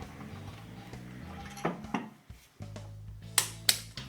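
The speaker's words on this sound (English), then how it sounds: "So we're just torquing up the wheel nuts to 110 Newton meters" A torque wrench clicks as wheel nuts are tightened to 110 Nm on a Mercedes W639 Vito van after a front brake disc change; a few sharp clicks come in pairs, close and clear over a quiet workshop hum.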